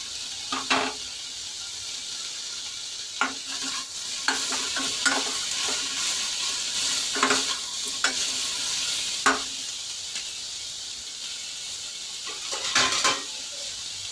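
Tomato and rock salt go into a frying pan of sizzling oil, with repeated spoon stirs and scrapes against the pan over a steady frying hiss; no one speaks.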